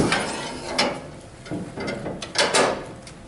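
A PowerBoss Nautilus sweeper-scrubber's seat clip is raised to reach the hydraulic reservoir beside the side door: a series of close mechanical clacks, rattles and latch clicks, spaced irregularly over a few seconds with quieter handling noise between them.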